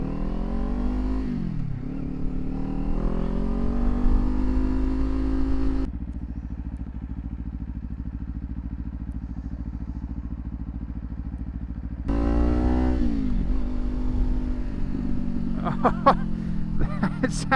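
Kawasaki Ninja 500 with a LeoVince GP Corsa EVO exhaust riding on the road, its engine rising and falling through revs, steady cruising drone in the middle, then deceleration burble and pops near the end.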